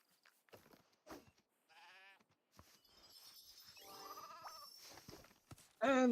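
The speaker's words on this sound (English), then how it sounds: "There's a sheep nearby." Several sheep bleat in LEGO Fortnite, wavering calls spaced across the moment, with one louder, closer bleat at the end amid scattered game sounds.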